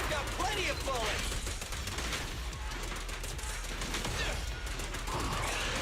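Rapid gunfire from an anime-style video game battle, continuous crackling shots and impacts throughout with game voices mixed in.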